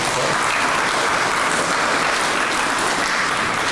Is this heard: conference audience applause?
yes